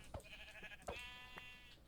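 Sheep bleating in a video game, two or three short nasal bleats in quick succession, close and clear against a faint background.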